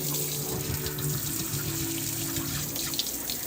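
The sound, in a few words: cold tap water rinsing tie-dyed fabric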